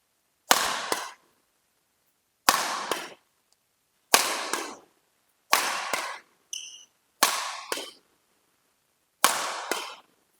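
A Hundred Nitrix 70 Venom badminton racket hits drive shots on court: six sharp, loud cracks spaced about two seconds apart, each ringing briefly before near silence.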